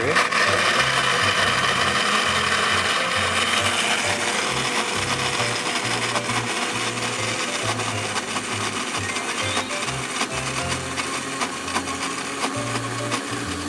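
A blender grinds soaked soybeans together with their cooking water, a steady whirring grind with a rhythmic low chopping pulse that eases toward the end, and a voice talks over it at times.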